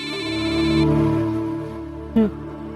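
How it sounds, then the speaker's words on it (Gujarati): A mobile phone ringtone plays a bright, sustained electronic tone up close, cuts off, and is followed by a brief sharp blip. "મહેશ્વરી મેડમનો ફોન"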